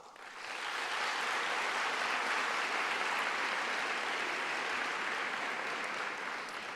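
Sustained applause from a large lecture-hall audience at an arts advocacy gathering in Washington, a dense steady wash of clapping that swells in and holds loud for several seconds with no voices over it.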